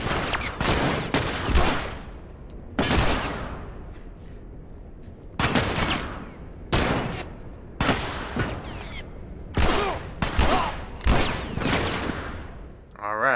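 Gunfire in The Last of Us at Tommy's Dam on PS3: a series of loud, sharp shots at irregular intervals, some spaced and some doubled, with ringing decay between them.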